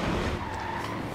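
Tires skid and squeal under hard braking on a big American muscle car in the Forza Horizon 3 racing game, a steady loud screech lasting about a second alongside engine noise.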